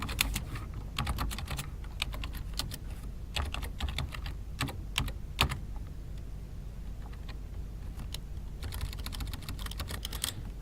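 Someone types a question on a computer keyboard, a steady run of close, crisp key clicks in uneven bursts with short pauses, over a low background hum and no talking.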